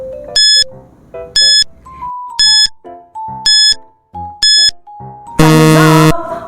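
A quiz countdown timer sounds a short melodic jingle of repeated bright chime notes, then a loud buzzing tone closes it off, close and clear with no talk.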